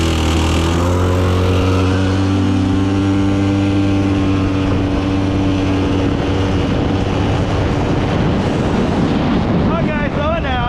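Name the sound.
Polaris Scrambler 400 ATV engine while riding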